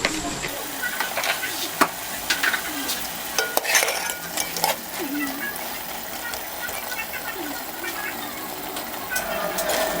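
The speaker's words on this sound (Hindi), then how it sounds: "घी डाल के अच्छे तरीके से फ्राई कर लेंगे" Beef frying in ghee in a pot, with a soft continuous sizzle and scattered scraping and clinking stirring knocks, loudest early on, while a person talks.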